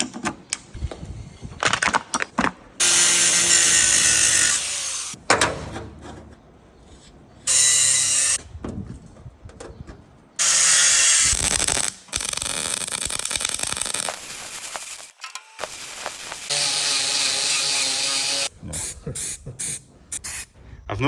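A welder repairing a farm shed door gives off loud, close crackling hiss in bursts of a few seconds each, broken by short pauses and sharp clicks.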